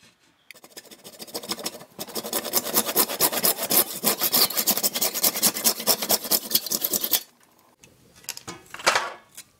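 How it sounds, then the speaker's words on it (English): A hand saw cuts through PVC pipe clamped in a vise, with a fast, steady run of loud, close rasping strokes for about five seconds, then a pause and a few short final strokes. "I'm going to put it back in the vise and cut a little bit more off"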